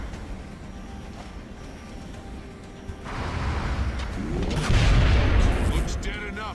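Gunfire in the strategy game XCOM Long War, heavy booming shots and blasts that swell from about three seconds in and peak loud near five seconds over a steady low background.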